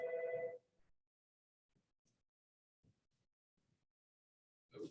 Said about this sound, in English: I'm gonna answer the phone.